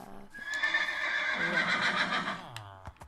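A horse in a video game lets out one loud, drawn-out whinny lasting a couple of seconds, close and clear, ending with a short snort.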